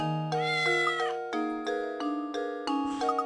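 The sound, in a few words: cat meowing in video game Professor Layton and the Curious Village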